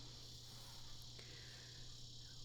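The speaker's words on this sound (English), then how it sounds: "we used to call them locusts, and they're called like cicadas or something like that" Cicadas drone in a continuous high, buzzing chorus, faint and distant, with a steady low hum underneath and one brief click partway through.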